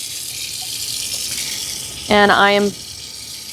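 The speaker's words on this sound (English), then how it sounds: "allowing the water to run and help dilute this as it goes down the sink" Tap water runs steadily into a laboratory sink used while passaging cells, a continuous close hiss and splash, with a voice speaking briefly over it partway through.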